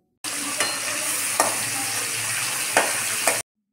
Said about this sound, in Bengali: তেল গরম হলে এক এক করে চিংড়ি মাছগুলো দিয়ে দেব ভাজা করার জন্য